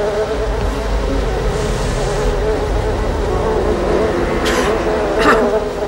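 Killer bees in a 1995 film buzz in a dense continuous drone, loud and close, with a low rumble beneath and a couple of brief sharp bursts near the end.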